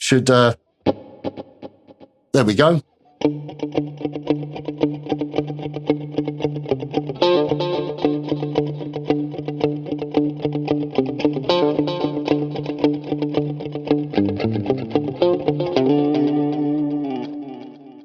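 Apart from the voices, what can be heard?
electric guitar with flanger, delay and reverb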